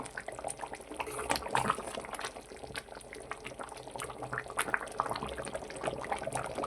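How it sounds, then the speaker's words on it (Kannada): Village-style mango curry (mavina gojju) simmers in a pot with a steady, close, crackling bubble and faint liquid gurgles throughout, with no talking. "ಈಗ ಕುದೀತಾ ಇದೆ."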